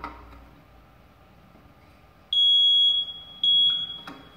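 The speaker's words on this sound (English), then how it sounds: "smoke alarms." Smoke alarm in a renovated house being tested, giving two loud, sustained high-pitched electronic beeps, each about a second long, over quiet room tone.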